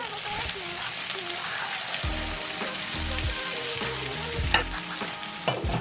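Tofu fries in a pan with coconut aminos, a steady sizzle broken by the scrape and clatter of turning pieces, heard close with low talk underneath.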